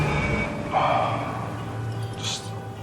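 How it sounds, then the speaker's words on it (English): Faint electronic beeping of car horns rises over a constant low traffic rumble in Egypt, a short high chirp sounding near the end. "It's not just the traffic, it's just beeping."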